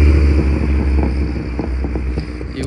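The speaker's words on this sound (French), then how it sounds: "Super 5 GT Turbo." A Renault Super 5 GT Turbo at a classic car meet gives off a steady, low engine rumble that holds at a constant level throughout, with faint mechanical ticks over it and no voices.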